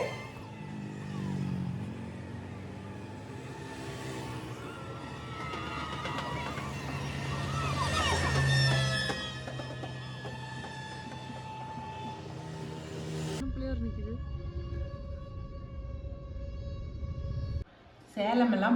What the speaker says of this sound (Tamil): விநாயகரை கொண்டுட்டு போய் மேட்டூரில் கரைக்கிறதுக்காக வேண்டி இத்தனை வண்டிக்கு போகிறாங்க